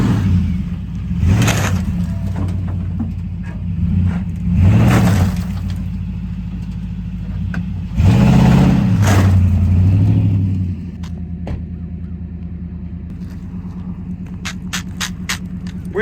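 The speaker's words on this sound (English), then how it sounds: "We're gonna run over with the truck and see if it survives" A truck engine revs and rolls as the vehicle drives over a PSA pistol on dirt, with loud passes that swell and fade several times and a few faint clicks toward the end.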